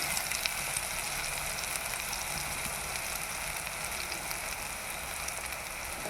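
Onions frying in a pan for a prawn fry at home, giving a steady, even, fairly quiet sizzle that hisses continuously with no talking.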